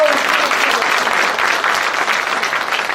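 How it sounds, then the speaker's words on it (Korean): An audience at a citizens' dialogue event in a hall claps together, a loud, dense burst of applause that holds steady for a few seconds. "박수 한번 칩시다."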